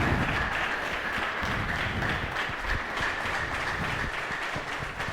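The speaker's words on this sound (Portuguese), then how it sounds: "E quero uma salva de palmas para este senhor e para toda a equipa da Liga" An audience applauds steadily and fairly loudly, a dense continuous clapping with no voices over it.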